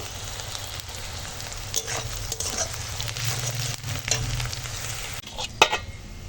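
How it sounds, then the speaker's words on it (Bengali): Chopped onion and green chillies fry in hot oil seasoned with black cumin, a steady close crackling sizzle with spatula clinks and scrapes scattered through, and a sharper clatter near the end. "পেঁয়াজ লঙ্কাটা ভালো করে ভেজে নেব"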